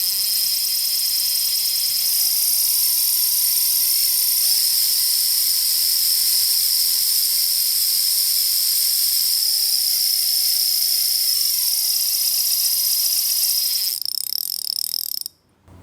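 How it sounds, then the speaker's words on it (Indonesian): Drag clicker of an Iroly Hanzo fishing reel giving a loud, close, continuous buzzing whir with a shifting tone, running steadily for about fourteen seconds before cutting off abruptly. "Kita dengar dulu untuk drag clicker sound Iroli Hanzo ini."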